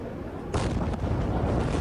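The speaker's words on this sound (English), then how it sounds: "an explosion ripped through Beirut's port." Explosion at the Beirut port from news footage: a sudden loud blast bursts out of background rumble partway through and sustains as a dense roaring wash, heard alone without talk.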